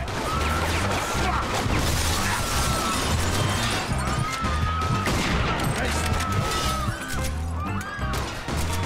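Rapid gunfire hits the player in a video game, loud repeated sharp cracks and smashing impacts over a busy, dense game soundscape, with no one speaking.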